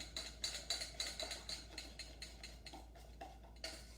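Repeated strokes from a whisk stirring corn muffin batter in a bowl, a steady rhythm of soft clicking and scraping taps, close and fairly quiet, with no talking.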